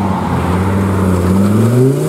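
A Ford Mk2 RS2000 with a swapped RS engine revs and pulls away from a Ford car meet, a loud close engine note rising steadily in pitch as it accelerates.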